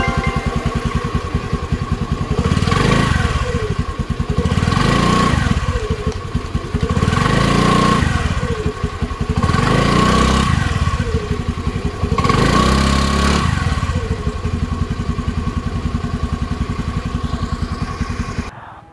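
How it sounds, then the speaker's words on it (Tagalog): A Honda Dio 110 scooter climbs uphill, its engine droning steadily and loud close up, with rhythmic swells in revs every couple of seconds and a constant buzzing tone throughout, no voices. "isabak na kagad natin itong Honda Dio 110 ng panikan"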